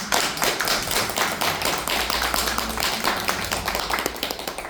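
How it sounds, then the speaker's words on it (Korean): An audience at a Korean civic gathering about a lawsuit over Daegu's civilian airport claps for the citizens involved, a dense, continuous patter of many hands at a steady level. "박수 한번 쳐드립니다"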